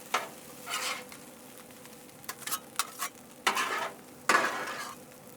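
Eggs and rice being stirred and scraped on a Blackstone 22-inch griddle over low heat, with a soft sizzle under repeated metal spatula scrapes and clacks that come in bursts, close and fairly loud.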